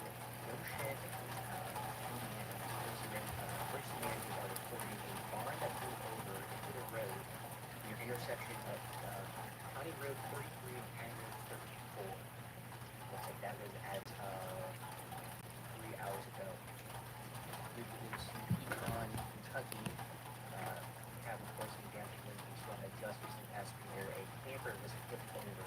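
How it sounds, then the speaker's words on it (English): Rain falls at night as a massive line of storms sweeps over a hometown, a faint, continuous hiss and patter holding evenly throughout, with a low steady hum beneath and people talking quietly over it. "Alright, you can hear the rain, that's good."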